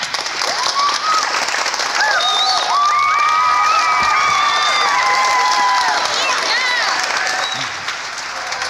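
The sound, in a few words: applause and cheering from children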